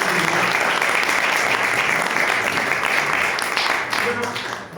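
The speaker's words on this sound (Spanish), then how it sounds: "Un aplauso para ellos" Sustained, dense applause fills a law faculty hall at an audiobook presentation, loud and even throughout before easing off in the final moment.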